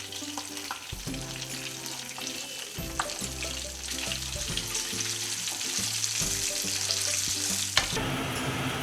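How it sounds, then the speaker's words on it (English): Eight to twelve garlic cloves added to a hot pan for roasted chilli chicken, giving a loud, continuous close sizzle that swells through the clip with stirring scrapes, while background music plays underneath. "In the same pan, add 8 to 12 garlic cloves"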